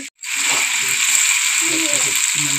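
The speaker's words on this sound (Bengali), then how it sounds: "আর এখানে এখন আলুটা আমরা দিয়ে দিব তেলের মধ্যে।" Potatoes seasoned with turmeric and salt frying in hot oil in a village kitchen: a steady, loud sizzle that starts abruptly after a brief silence and holds evenly throughout.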